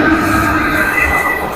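A passing train gives a loud, steady rumble with a high rail whine running through it, holding at the same level from start to finish.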